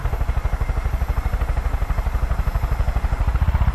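Helicopter in the video game Far Cry 5, a steady rapid rotor chop with a deep thumping pulse, loud and continuous throughout with no talk.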